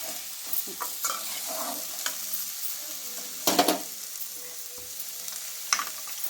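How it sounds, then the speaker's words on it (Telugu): Carrots frying in oil for a carrot fry, a steady close sizzle broken by scraping stirs of a spoon in the pan, with a few louder clatters. "3 చెంచాలు నూనె పోసుకొని క్యారెట్ వేసుకున్నా ఫ్రెండ్స్"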